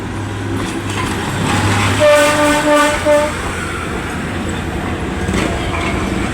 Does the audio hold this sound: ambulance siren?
no